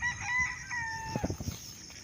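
Chickens kept on a sloping rented farm lot in Calauan cluck, and a rooster's crow rises clearly in the middle. A few sharp, close clucks follow near the end, over faint outdoor background.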